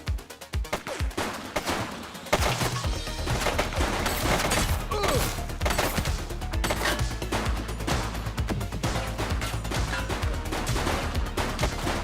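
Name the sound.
gunfire from video game The Precinct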